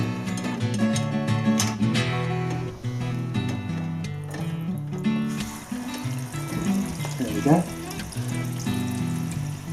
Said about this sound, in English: You'll hear the water gushing as you do that.